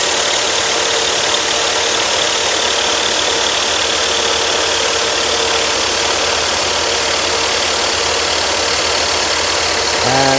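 A power saw cuts through timber for a carved salad server in a woodworking shop, a steady loud continuous whine and drone holding for the whole stretch with no break, close by and without talk.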